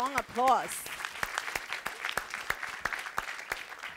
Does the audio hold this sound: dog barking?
no